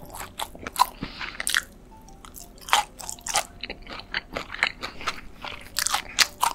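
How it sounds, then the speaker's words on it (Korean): Pork belly being chewed in a close-miked mukbang, with wet crunchy bites and squishy mastication in an irregular rhythm, loud and intimate with no talking. "삼겹살도 한번 먹어볼게요."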